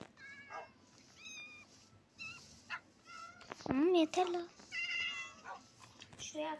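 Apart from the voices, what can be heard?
cats meowing in a video game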